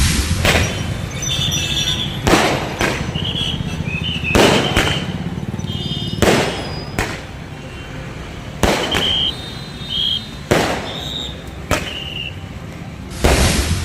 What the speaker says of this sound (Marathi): घोषणाबाजी करत फटाक्यांची आतिषबाजी करत जल्लोष साजरा केलाय